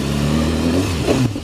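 A 2015 BMW S1000RR sport bike with its stock exhaust, the engine revving up loud and close before a sharp pop as the throttle closes.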